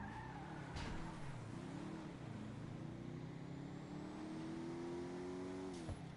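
Engine of a car in a PS5 video game, a Benny's custom car, drone steadily with shifting revs and gear changes, loud and continuous with no talk.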